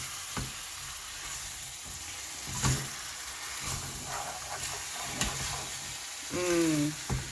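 Chicken wings fry in a spicy sweet sauce with a steady close sizzle, broken by occasional stirring clinks and scrapes, and a brief squeaky sound near the end.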